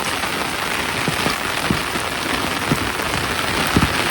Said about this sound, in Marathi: पूर्ण पाऊसच पडायला आहे बा.